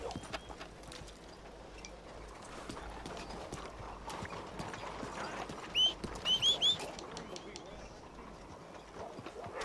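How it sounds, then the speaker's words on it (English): Steady clip-clop of horse hooves at a trot in Red Dead Redemption 2, moderately close, with faint chirps and clicks over the rhythm and a few louder bumps midway. "We'll get our horse here."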